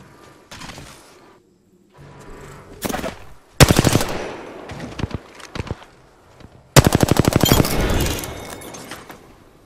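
Automatic weapons fire in the Apex Legends video game comes in two long, loud, rapid bursts, with scattered single shots and short volleys between them.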